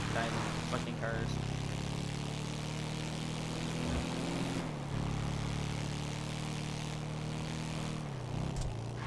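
Helicopters in Grand Theft Auto V hold a steady, loud rotor and engine drone from start to finish, with low harmonic hum under brief shifts in pitch as they fly close by.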